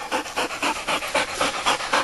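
Dog panting close to the microphone in a home garden, a quick even rhythm of breathy huffs, about eight in two seconds, with no talking.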